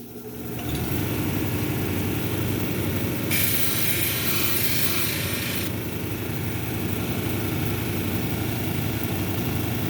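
A lapidary wheel grinding an epidote cabochon at 280 grit runs as a steady, loud motor hum throughout, with a harsher hissing grind rising over it for a couple of seconds midway.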